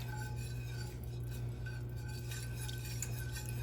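A spoon stirs milk into a butter and flour roux in a pot, making faint, soft scraping and light clinks over a steady kitchen hum.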